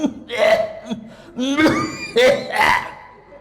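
A voice imitates coughing: a few short, harsh throaty bursts with breathy pauses between them, close and fairly loud.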